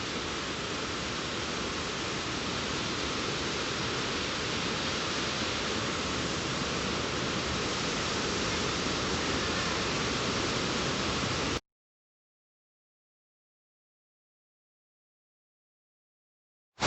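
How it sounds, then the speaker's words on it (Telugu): Water rushes steadily beside a forest temple in the Nallamala hills, a loud, even broadband roar that continues for about eleven seconds, then cuts off abruptly into silence. "వాటర్ ఫ్లో ఉంది చూడండి."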